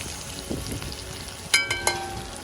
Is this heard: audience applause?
no